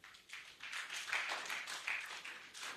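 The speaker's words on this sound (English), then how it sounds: "you can clap for yourselves and you can clap for them" Audience applause at a healthcare professionals' annual general meeting and scientific conference in Lagos, a moderate burst of clapping that swells and wavers, slightly distant and fairly quiet.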